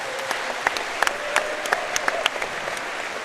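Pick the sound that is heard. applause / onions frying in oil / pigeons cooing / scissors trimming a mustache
applause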